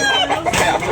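A rooster at a Sunday chicken market in Tabunok, Talisay, Cebu gives a brief loud close crow or cluck, heard alone for under a second.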